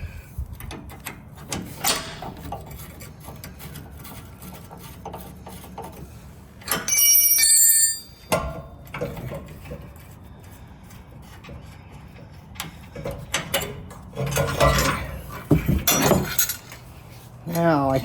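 Wrenches loosening the hard brake line fitting from the soft line at a Jeep Gladiator's caliper, giving sharp metallic clinks and ticking taps in scattered bursts, with a bright ringing clank near the middle, against low workshop background noise.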